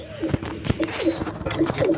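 Pakistani Kalpit pigeons cooing close by in repeated soft throaty bursts, with someone talking over them and some scuffling and handling noises.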